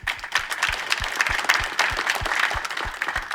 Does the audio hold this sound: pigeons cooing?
no